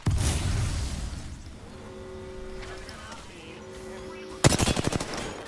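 Automatic gunfire from a rooftop firefight in Apex Legends, a short burst of rapid shots at the start, a steady engine-like drone in the middle, then a loud fast rattling burst near the end.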